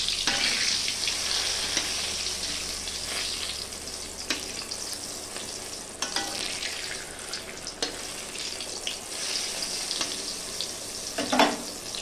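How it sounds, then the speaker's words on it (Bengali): Eggplant pieces coated in salt and turmeric fry in hot oil, a steady close sizzle with faint crackles and occasional clinks and scrapes of a utensil turning them, no voices. "এক দিকটা ভাজা হয়ে গেছে, আমি অপর দিকটা ভেজে নিচ্ছি"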